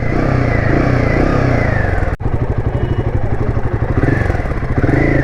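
A Royal Enfield Himalayan 450 motorcycle engine runs loud and close after starting, a steady rough throbbing idle with rapid pulsing beats, a brief dip near the middle, then settling back to the same even chug.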